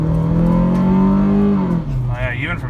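A 2005 Hyundai Accent engine revs loudly from inside the car, holding a steady drone before the pitch drops, with a voice briefly overlapping near the end.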